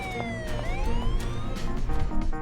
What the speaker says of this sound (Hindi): एम्बुलेंस